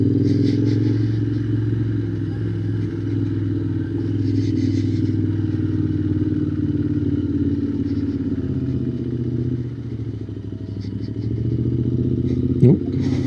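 A Royal Enfield Continental GT motorcycle idles and rides slowly through easy U-turns in an old car park, its engine a steady low thrum that dips and swells with light throttle, with a brief clatter near the end.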